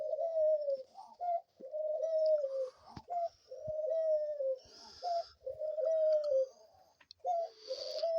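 Doves sit on a perch and give a series of low, rolling coos, about five in a row, each one close and clear. A few higher chirps and rustles come in between them.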